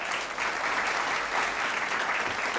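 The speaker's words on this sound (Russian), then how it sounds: "встречайте бурными аплодисментами нашего финалиста" Enthusiastic audience applause for a contest finalist, a dense, even wash of many hands clapping that stays loud and close for the whole stretch, with no voices on top.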